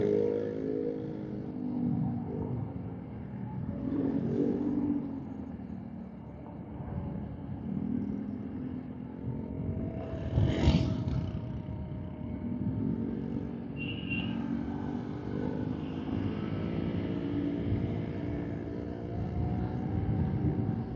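A passing motorcycle on a road, heard from another rider's motorcycle, with a faint engine drone that swells briefly as it goes by, under steady road and wind noise.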